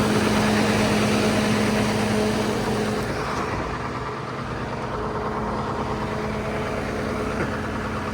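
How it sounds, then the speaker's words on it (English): An old Mack two-stroke diesel idles steadily nearby, a continuous low rumble with a faint whine, running alone without voices. "it's an old Mack 2-stroke. Sounds good, but smells even better."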